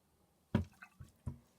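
Several soft, wet dabs and pats of a damp baby wipe pressing water onto the back of a tattoo, irregularly spaced and close up, each a brief damp squish against a quiet background.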